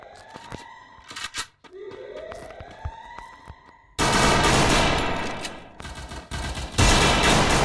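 Gunfire rings out in the Free Fire video game. Sharp isolated shots and rising game tones come first, then a dense, loud burst of sustained firing with close, crackling impacts.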